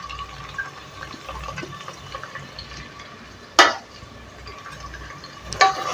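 Chopped onions go into a pan with green chillies for a cauliflower potato gravy and are stirred. A low, steady sizzle and rustle is broken by two brief louder splashes or scrapes as they are tipped in and mixed.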